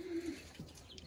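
Racing pigeons give a soft low coo close by, followed by faint rustles and scattered quiet bird sounds.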